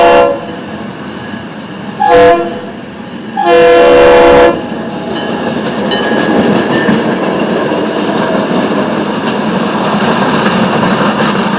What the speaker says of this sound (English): The train is going by now.